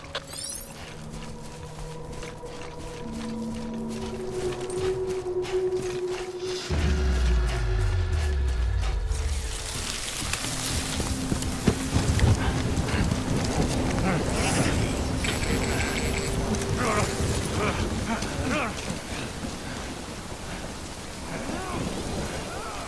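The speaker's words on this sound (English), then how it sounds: "Good thing it was raining." Heavy rain falls in the Death Stranding video game as a dense, steady hiss that grows loud after a deep thunder rumble, following a quieter stretch of low tones.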